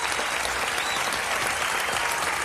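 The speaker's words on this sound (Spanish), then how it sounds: "un aplauso para ella" Studio audience applause at a televised reality-show debate, a dense steady wash of clapping that holds evenly for the whole stretch with no voices over it.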